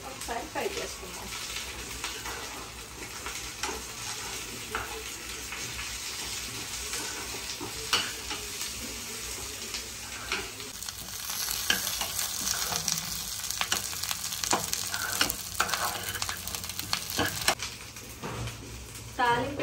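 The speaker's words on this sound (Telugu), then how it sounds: "సో అన్ని వేసేసుకున్నాం కాబట్టి ఒకసారి ఫ్రై చేసుకుందాం." Cumin seeds and curry leaves tempering in hot oil give a steady, close sizzle that grows louder and busier partway through, with occasional sharp stirring clicks against the pan.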